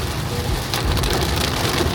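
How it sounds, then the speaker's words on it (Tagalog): Very heavy rain pounds down steadily during a drive in Davao City, Philippines, a dense, loud wash of drumming water that swells slightly partway through, with no voices. "Sobrang lakas ng ulan."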